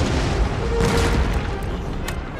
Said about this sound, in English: Alright, switch to cannon fire.